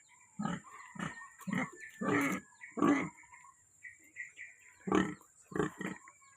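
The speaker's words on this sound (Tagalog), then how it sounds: "itong baboy" A five-month-old farm pig grunts in a series of short, fairly close bursts with brief pauses between them, growing busier toward the end.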